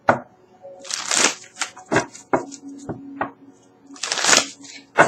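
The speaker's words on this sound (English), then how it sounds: "I'm going to do a couple more shuffles" Tarot cards being shuffled by hand, a series of close, crisp riffles and slapping flutters in irregular bursts, separated by short taps and softer handling noises, with no talk over them.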